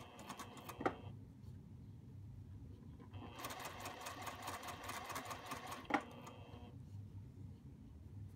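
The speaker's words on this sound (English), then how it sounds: "I'm just going to rotate and I'm going to sew across, folding this part in" Sewing machine stitching across fabric for a hat exterior, running in two steady mechanical bursts with a brief pause between, close and clear, with a couple of sharp clicks and low background hum.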